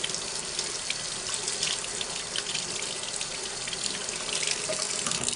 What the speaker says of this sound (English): Now let's rinse this off again.